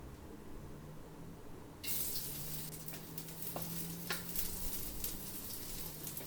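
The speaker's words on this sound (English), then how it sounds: "Once greased, add the garlic slices into the wok and stir them." Garlic slices are stirred in a hot, oil-greased wok. A steady sizzle rises suddenly when they hit the pan and continues under faint scraping and stirring, with no talk.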